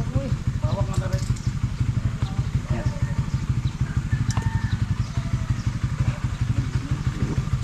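Motorcycle engine idling close by with a steady, fast thumping rhythm, while people talk over it.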